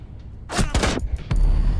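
Gunfire in Rainbow Six Siege, a sharp burst of a few close, loud shots in quick succession followed by another single crack a moment later.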